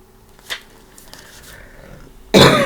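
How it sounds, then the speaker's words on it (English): A single loud, harsh cough bursts out near the end, close to the microphone, after a few seconds of near quiet with a faint click. "it's like I never cough until I start recording a video"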